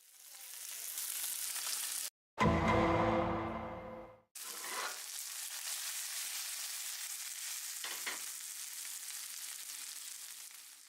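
A reverse-seared steak sizzles and pops loudly in a hot pan with butter and oil, a steady frying hiss broken by a brief burst of louder spattering and a couple of sharp pops.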